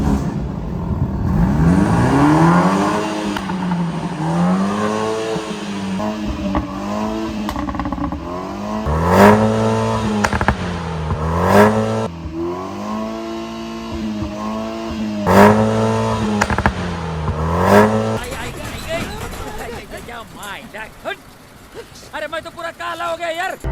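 A BMW with an upgraded exhaust, set to sports mode, revs repeatedly in rising and falling sweeps, loud and close, with people talking over it before it drops to a quieter idle near the end.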